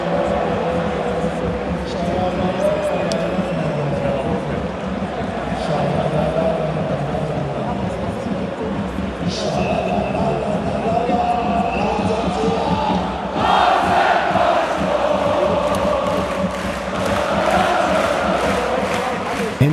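An RB Leipzig stadium crowd chants along behind a lead capo, a dense, steady roar of voices filling the stands, swelling louder in the second half, with someone talking over it throughout.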